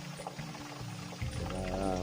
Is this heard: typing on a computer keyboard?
no